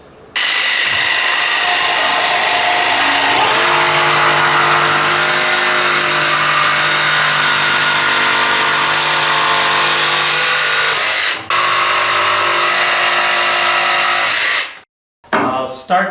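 A power saw cutting and ripping wooden boards into strips whines loud and steady for several seconds, pauses briefly, then runs again before winding down.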